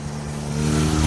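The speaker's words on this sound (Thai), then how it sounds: "ได้ฟังเสียงเครื่องยนต์อันดุดัน" A motorcycle engine revs up, a close, loud, rising rumble that builds steadily over a brief moment.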